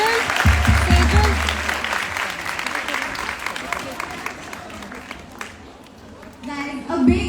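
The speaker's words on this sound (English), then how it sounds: "Guys, a big round of applause for Anubha." An audience applauds a makeup artist at an air hostess grooming masterclass, sustained dense clapping filling the room, with voices and crowd noise mixed in and a low hum at the start.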